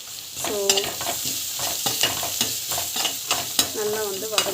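Chana dal with turmeric sautés in a pan, crackling steadily under repeated spoon strokes and scrapes that come at a regular rhythm, close and fairly loud.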